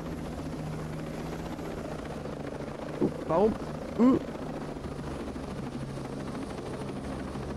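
A helicopter from the video game Ghost Recon Breakpoint drones steadily throughout, with someone speaking briefly over it midway.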